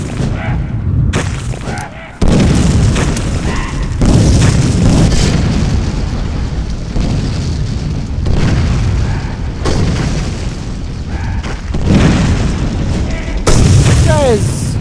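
Repeated deep explosive booms as enemies burst apart in the first-person horror game Clive Barker's Undying, loud and dense with rumbling blasts spaced every few seconds amid game noise.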